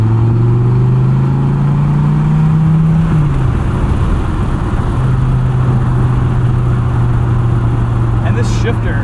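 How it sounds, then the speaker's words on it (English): A 2015 Dodge Viper SRT's V10 engine drones loud and steady from inside the car, with its pitch climbing, dropping briefly as it shifts, then holding again while the driver talks. "it's just that burble, that V10 warble is so, so cool, and the power this thing makes is insane."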